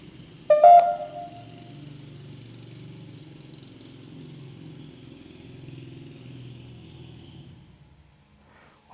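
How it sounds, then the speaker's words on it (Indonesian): A motorcycle engine drones outside a villa at night, a low, steady hum heard from a distance that slowly fades away, following a brief sharp knock near the start. "Oh, ada suara motor guys."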